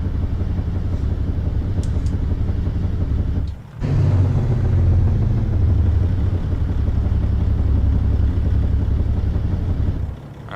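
A truck's Jake brake rumbles in American Truck Simulator, a deep, steady low engine drone that cuts out briefly and returns, loud and close throughout with no talking.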